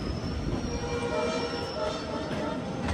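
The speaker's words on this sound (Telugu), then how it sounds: "ఏదో ట్రైన్ యశ్వంత్పూర్ జంక్షన్ లోపలికి అయితే వెళ్తుంది." Train rolling into Yeshwantpur Junction, a steady loud rumble of wheels and coaches with faint metallic squeal tones running throughout, heard from on board with no talking.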